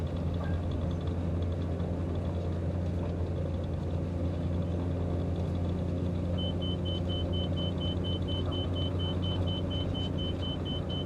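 Pitts Special aerobatic biplane engine running at full throttle, a steady, loud, droning rumble heard from inside the cockpit, with a thin electronic tone appearing partway through.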